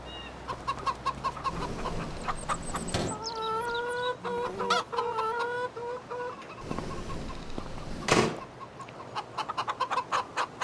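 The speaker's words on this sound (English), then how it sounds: "Don't know much about chickens. I just got them because they're loud, make a lot of noise." Chickens in the Farming Simulator 25 video game cluck and squawk close by, in quick uneven bursts and rising calls, with several birds overlapping across a constant farmyard background.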